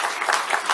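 Audience applause in a political speech setting, a short burst of dense, steady clapping from a crowd heard at moderate distance.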